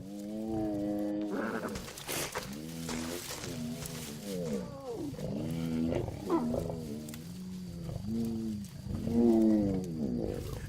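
A baby hippopotamus cries out again and again under attack by lions, its loud, tonal bawling calls coming in repeated bursts with rough roaring and struggling noise underneath.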